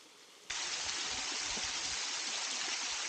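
Clear, cold creek water flowing over a waterfall near the ice at the top of the falls along Blue Creek, a steady broadband rush that starts abruptly and continues alone without voices.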